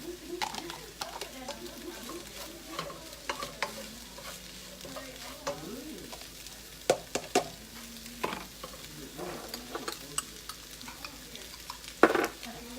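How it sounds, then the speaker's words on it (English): Green onions are stirred into scrambled eggs in a frying pan: a low, steady sizzle broken by scattered scrapes and clicks of a utensil, with a voice speaking now and then. "now that I've scrambled the eggs, I'm going to go ahead and I'm going to add in the green onions"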